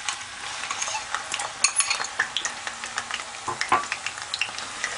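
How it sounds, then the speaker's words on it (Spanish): Chopped onion hitting plenty of hot oil in a pan and being spread and stirred through it, a steady bright sizzle broken by repeated scraping and stirring clicks, close up with no talking. "Vamos a añadir lo primero de todo la cebolla."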